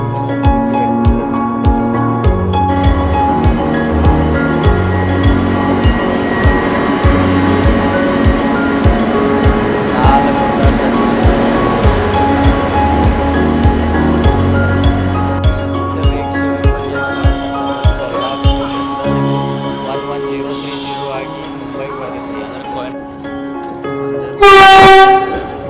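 Wheels of the CSMT Hospet Superfast Express clatter rhythmically over rail joints in a loud, continuous run, the pace easing later before a sharp horn blast near the end.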